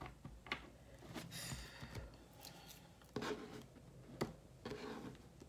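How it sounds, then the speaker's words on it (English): Tarot cards being shuffled by hand: quiet, irregular riffles, slides and taps of the deck, close up and soft, with no talking. "The most interesting shuffling I've done."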